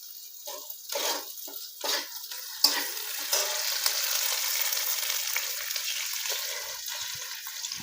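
Curry leaves dropped into hot oil with roasted green chilies, a sudden loud sputtering sizzle after a few soft stirs, then steady crackling frying that continues close by.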